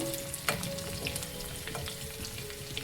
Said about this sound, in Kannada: ಸಾಸಿವೆ ಮತ್ತು ಜೀರಿಗೆ ಚಟಪಟ ಅಂತ ಅನ್ನಬೇಕು